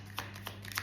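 Tarot cards shuffled and drawn during a reading, three short papery riffling bursts close by over a steady low hum, with no talking.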